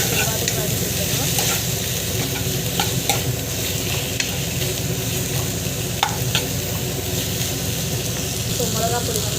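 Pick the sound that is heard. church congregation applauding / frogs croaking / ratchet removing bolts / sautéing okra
sautéing okra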